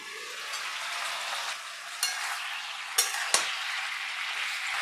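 Vegetables for a Bengali niramish jhol with black cumin paste fry and sizzle in a pan once the lid comes off, a steady hiss broken by a few sharp scrapes of stirring.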